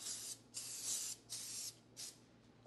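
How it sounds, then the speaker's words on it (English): Cooking spray is spritzed into a loaf pan in four short, quiet hissing bursts separated by brief pauses. "Now I'm going to go ahead and spray my loaf pan."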